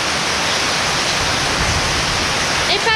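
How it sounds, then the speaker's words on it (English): Heavy rain pours down steadily in the mountains of Nicaragua's coffee region, a dense, even hiss of falling water that stays loud and unbroken throughout. "In fact, it's pouring."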